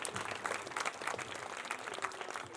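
Steady applause from the audience at a school annual function, continuous clapping heard from a distance at low level throughout.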